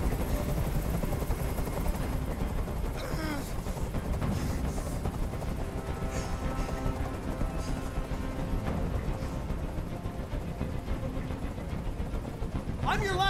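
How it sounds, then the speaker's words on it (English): A helicopter hovers over a hostage standoff in Detroit: Become Human, a constant droning rotor wash filling the scene at steady loudness while voices speak over it and brief sharp sounds break through. "Tell that helicopter to get out of here!"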